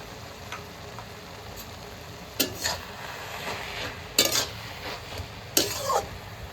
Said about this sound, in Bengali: আদা বাটা দিয়ে দিচ্ছি